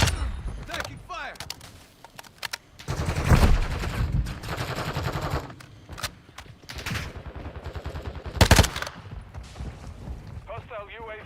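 Gunfire in the video game Call of Duty Modern Warfare II comes as bursts of automatic shots and sharp single reports between loud impacts, mixed with radio-style voice callouts and game sounds.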